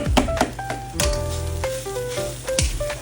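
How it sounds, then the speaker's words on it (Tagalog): Garlic fried rice with egg sizzles loudly in a hot pan while a spatula scrapes and knocks against the metal, a steady close crackle broken by several sharp clanks. "Ayan, sangag mo lang na maayos."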